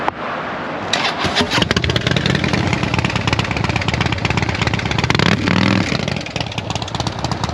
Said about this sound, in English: So here's a cool sounding Harley.